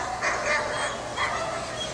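A dog barks a few times at a German Shepherd dog show, short yips and woofs rising from a steady hiss of crowd and room noise, moderately distant.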